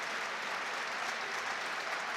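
Football crowd at a Sunderland vs Fulham stadium match breaking into sustained applause, a dense, steady wash of clapping from thousands of fans heard from a distance, with no talk over it.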